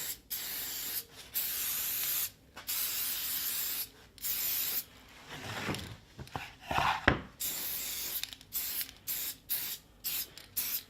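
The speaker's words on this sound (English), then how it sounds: "this is a mould release spray. So we're going to spray" Repeated bursts of mould release spray hissing close up from an aerosol can, about eight short blasts with brief pauses between them, plus some rubbing and handling noises midway.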